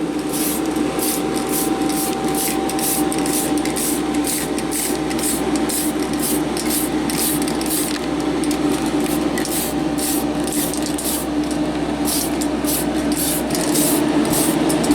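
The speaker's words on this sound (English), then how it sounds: "half a tin of PS16 blue. Let's put a light coat on." Continuous close hiss of a nearly empty spray tin laying a light coat of PS16 blue paint on an RC car body, with faint regular sputtering pulses throughout.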